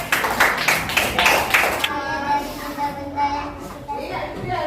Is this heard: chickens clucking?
no